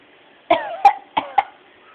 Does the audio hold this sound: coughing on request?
yes